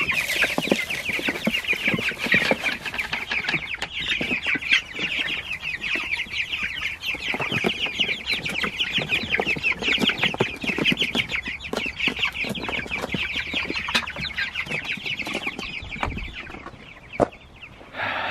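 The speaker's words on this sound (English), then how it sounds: "The meat birds are in the greenhouse because it's still a little chilly at night for them out in the pasture" A flock of meat chickens kept in a greenhouse cluck and chatter continuously, many birds close by with overlapping rapid clucks and occasional louder calls throughout.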